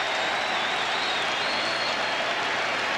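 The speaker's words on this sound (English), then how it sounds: "The crowd reacts as Bill Fitch calls for time." A basketball crowd at Madison Square Garden roars and applauds as the Knicks play the Nets, a dense, loud, sustained wash of cheering and clapping with no single voice standing out.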